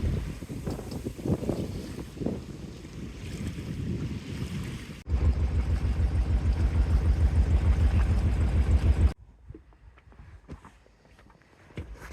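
A dinghy crosses open water toward a small beach near Rugged Point on the west coast of Vancouver Island. There is wind and splashing at first, then a loud, steady motor drone for a few seconds, which cuts off into quiet lapping water.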